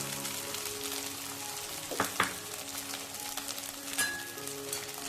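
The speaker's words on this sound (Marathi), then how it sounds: "चांगलं परतून घ्यायचं" Sabudana with paneer and peanut powder sautéed in a pan, with a steady, fairly quiet sizzle and a couple of brief spoon scrapes near the middle and again toward the end, with no talking.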